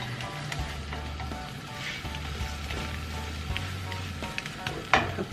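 A tortilla sizzles steadily in a hot pan, with a soft continuous frying hiss, a low hum underneath and a couple of small clatters near the end.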